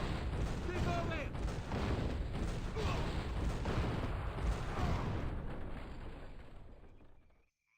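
Booming cannon blasts and rumbling explosions from a video game battle, over a noisy battle din, fading out at the end.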